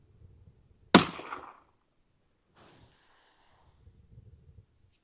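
A single sharp report from a 6.5 Creedmoor rifle fitted with a Vortex Strike Eagle scope cracks out and rings briefly, then gives way to near silence with light outdoor rustle and wind.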